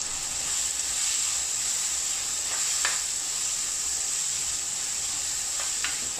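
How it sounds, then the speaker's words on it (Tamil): Tomatoes sautéing in a clay pot for a village-style dry fish curry give a continuous close sizzle, with a few faint stirring scrapes around the middle and near the end, and no talking. "தக்காளியும் சேர்ந்து நல்லா வதங்கணும்"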